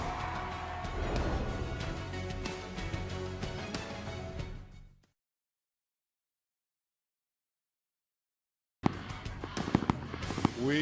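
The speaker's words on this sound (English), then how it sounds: "We promised fireworks, and there they are." Fireworks go off at a high school football homecoming halftime show, a dense stretch of booms and crackles heard from a distance, then a gap of silence before more sharp bursts.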